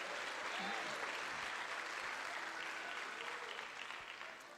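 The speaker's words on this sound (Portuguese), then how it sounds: "os que podem tomar seu assento aplaudindo a Jesus" A church congregation applauds together during a sermon, a dense, steady wash of clapping from a large crowd that holds loud for several seconds and tapers slightly at the end.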